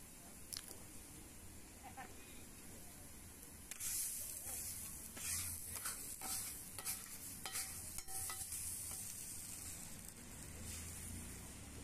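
Chopped onion and podi spice mix stirred in a pan for onion podi dosa, with quiet sizzling and repeated scraping of a spatula, louder clattering stirs from the middle on, and faint voice in the background.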